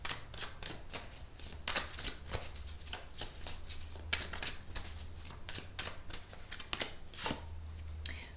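Tarot cards for a psychic reading are shuffled by hand in a steady run of crisp riffling and flicking bursts, close and fairly quiet, with no voices.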